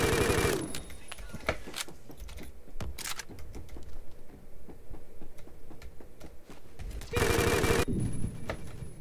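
Rapid gunfire in the shooter game Phantom Forces, loud automatic bursts at the start and again near the end, with sparse shots and clicks in between and no one talking.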